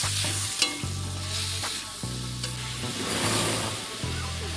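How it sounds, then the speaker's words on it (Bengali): Fried kuche fish (eel) being stirred and fried with spices in a pan, a steady close sizzle with repeated scraping stir strokes and low rhythmic clanks of the spatula, no talking. "তারপর মশলাটাকে একটু মাখিয়ে নিয়ে কুঁচে মাছ ভাজাগুলো দিয়ে দেবো, দিয়ে ভালো করে একটু কষে নিতে হবে।"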